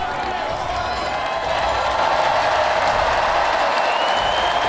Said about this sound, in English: The crowd is insane right now.